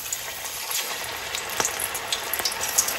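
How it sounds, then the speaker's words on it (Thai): Batter-coated grouper pieces fry in hot oil with a close, steady sizzle scattered with sharp little pops and crackles, and no voices. "ตอนนี้ปลาก็ใช้ได้แล้วนะคะไปทอดเลยนะคะ"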